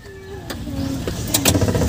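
A Multicab mini truck with a hard-starting fault from a grounded distributor cap cranks on its starter, a loud close whirring churn that builds and catches toward the end, with a faint tonal hum beneath.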